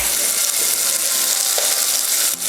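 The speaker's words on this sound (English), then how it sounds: "Now that the bacon is starting to cook up, we're gonna add in our shallots." Shallots frying with bacon in a saucepan make a constant, dense sizzle with faint crackles and an occasional soft stir, close and steady throughout with no talking.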